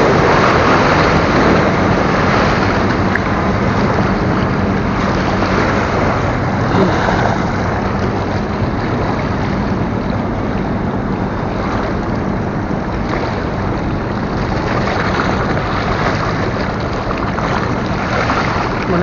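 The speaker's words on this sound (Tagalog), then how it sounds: "Yun oh, malakas ang alon." Continuous roar of strong sea waves and wind rushing past on a fishing trip, loud and unbroken, with engine-like rumble underneath and no talk.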